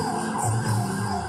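Ambulance sirens starting up in the background outside an apartment block during a rescue operation, a brief wavering wail heard at a distance with traffic noise.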